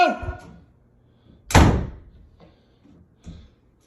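A brief faint sound at the start gives way to a door slamming shut with one loud, sharp bang that decays quickly. Later comes a fainter single knock or thud, with quiet stillness between the sounds.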